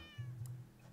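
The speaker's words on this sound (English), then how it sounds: "So then where did you go, you big, big cat?" A cat gives a single short, quiet meow, close by, with no talking.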